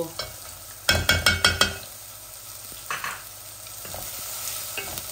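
Garlic sizzles in a frying pan, a soft steady hiss broken early by a quick run of four or five sharp metallic scrapes and taps of a utensil, then a few lighter clinks, close and with no talking.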